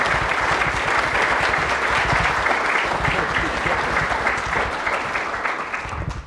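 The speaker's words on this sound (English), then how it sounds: "Would you please welcome him with your warm applause?" Warm applause from an audience welcoming a speaker to an evening talk, dense and steady clapping from many hands that carries on throughout and thins slightly at the end.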